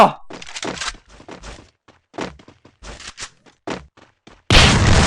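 Gunfire in a shooting video game comes as a series of short, sharp cracks and thumps, ending in a sudden loud, dense burst.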